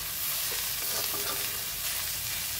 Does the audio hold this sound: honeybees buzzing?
no